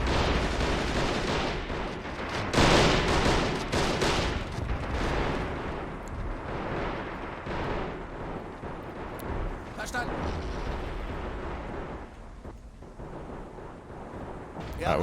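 Mortar and artillery fire in the WWII strategy game Men of War: Assault Squad, set in the 1942 Battle of Stalingrad: repeated booming blasts and scattered gunfire over dense battle noise, with a voice talking over it.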